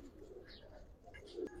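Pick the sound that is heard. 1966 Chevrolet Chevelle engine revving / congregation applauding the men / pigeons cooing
pigeons cooing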